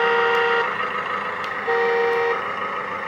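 Horn effect from the sound system of a 1/14 scale LESU Aoue-DT60 hydraulic RC bulldozer: two loud synthetic honks, each about half a second, sounding over a steady electronic engine idle with no talking.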